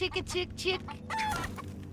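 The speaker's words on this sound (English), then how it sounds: "one of Mikey's chickens wanders in and drinks the leftover fuel off the floor" A cartoon chicken from the 2012 Teenage Mutant Ninja Turtles series clucks in quick bursts, a few short close squawks followed by a longer drawn call over soft background music.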